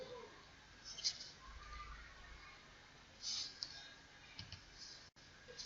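Computer mouse clicks while working in Microsoft Word: a few faint, isolated clicks spaced seconds apart over a quiet room hum, with no talking.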